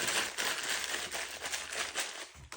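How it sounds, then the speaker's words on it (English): A single sheet of newspaper crumpled up by hand, close and fairly quiet, with crisp crackling bursts and rustles continuing irregularly for a couple of seconds. "You got some newspaper here, 1 sheet. I'm going to crumple it up."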